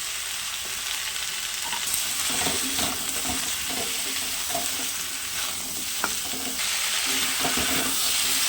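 Taro, potatoes and Malabar spinach are stirred into a pan of oil where onion and chilli are already frying, making a loud, continuous sizzle with scraping stir strokes and no voices.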